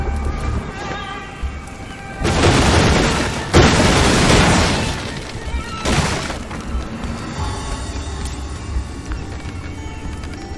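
Objects breaking apart in a chain reaction in the game Graven, a few heavy crashing bursts of shattering debris, one long roar followed by another and a shorter crash, over a quiet ambient background.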